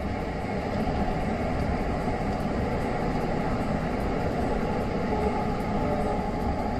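Steady, loud rumble of a Delhi metro train heard from inside a moving carriage, with continuous broadband track and motor noise and no voices.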